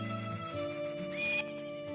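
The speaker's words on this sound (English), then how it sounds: "Isn't that your horse?" A horse in The Legend of Zelda: Majora's Mask 3D lets out a bright, quavering whinny that rises and trails off over soft clip-clop hoofbeats and game music, fairly quiet, with no voices.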